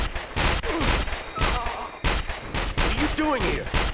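Gunfire in the video game 24: The Game: rapid bursts of loud close shots in an irregular rhythm, mixed with game voices and grunts.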